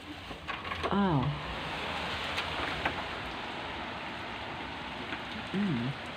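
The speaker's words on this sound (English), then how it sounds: "rain is coming down out here and the street has gone deadly quiet." Steady rain falls on a hushed street late at night, a continuous broadband hiss that fills the whole stretch, with a couple of short voiced murmurs rising briefly above it.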